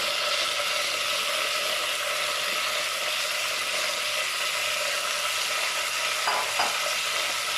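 Vermicelli roasts in melted ghee with cardamom in a pan, a steady, even frying hiss close by with a couple of brief scrapes of stirring toward the end.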